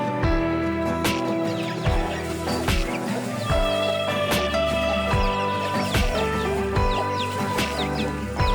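Chickens and ducks are fed black soldier fly larvae at mealtime, clucking loudly and almost without pause, close by, in a busy, overlapping chorus.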